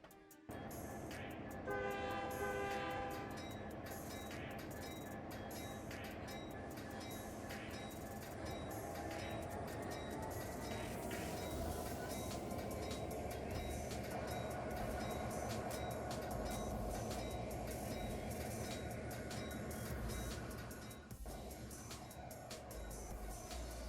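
Santa Fe local train rolling along the SSW Coxton Sub in Trainz 2019, a steady loud rumble of wheels and engine with a sustained horn blast early on, continuous and close throughout.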